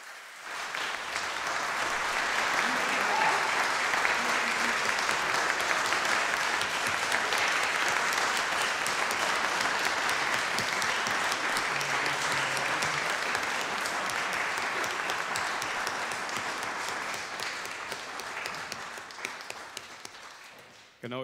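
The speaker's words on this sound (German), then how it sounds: "Und jetzt kriegt ihr nämlich den Applaus für heute" A church congregation applauds confirmands during a confirmation service, sustained dense clapping that holds steady for a long stretch before tapering and stopping, with faint voices underneath.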